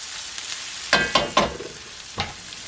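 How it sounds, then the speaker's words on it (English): Garlic frying in a pan for lasagna sizzles steadily, with a few sharp bursts of spatter and scraping as it is stirred, then settling back to a soft crackle. "first I'm going to add all my garlic. Just get that cooked a little bit"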